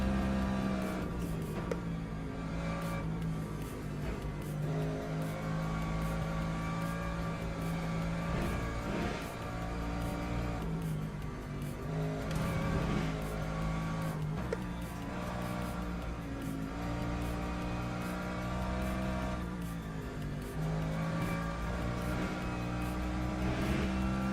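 GT3 race car lapping a track in testing, its engine droning steadily and loudly throughout with rising and falling revs through gear changes, no voices.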